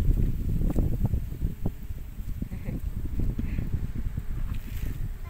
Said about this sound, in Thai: อุ้ยลมพัดดีดี